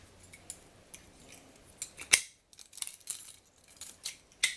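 Keys being fitted onto the ring of a Boker Plus XS folding knife, heard as faint, close metallic clicks and light jingles spread irregularly, with one sharper snap in the middle.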